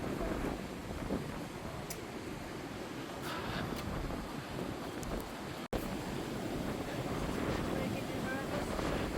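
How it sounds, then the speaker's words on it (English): Steady wind blows hard across a valley near Heidelberg, Germany, with continuous microphone buffeting and a constant broadband rush that holds loud for the whole stretch, with one brief dropout partway through. "So windier than we thought, but we are in a valley, so the wind's going to be higher."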